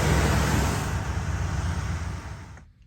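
A 1984 ASC McLaren Mercury Capri convertible's carbureted engine runs steadily with a broad, rough drone that slowly fades before cutting off abruptly.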